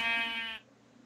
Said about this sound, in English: The brown sheep. And the white sheep, huh? They're eating grass.